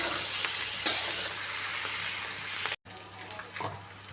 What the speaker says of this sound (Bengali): এবার পেঁয়াজ রসুন দিয়ে ভালো করে নাড়াচাড়া করব।